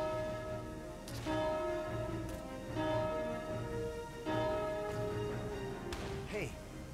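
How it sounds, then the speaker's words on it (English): A bell from the video game Valkyria Chronicles 4 is struck five times in a steady rhythm, each strike ringing out and decaying over sustained game music. "Now ring the bell 5 times."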